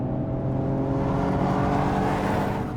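A Brabus B53 500 tune of the Mercedes-AMG GLE 53 SUV accelerates hard at full throttle from about 80, heard from inside as a loud, steady engine roar that holds for the whole stretch with no talking.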